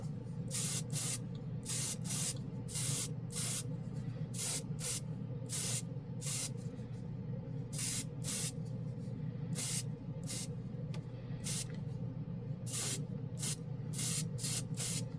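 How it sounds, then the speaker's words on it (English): An airbrush sprays a dusting coat of Kaleido matt paint in many short, close hissing bursts of about half a second each, separated by brief pauses and a faint background hum. "I'm gonna hit him overall with a dusting coat."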